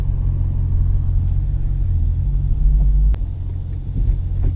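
A manual-transmission car creeps forward as the clutch is slowly let out, a steady low engine rumble close by that swells briefly before dropping off near the end, with no voices.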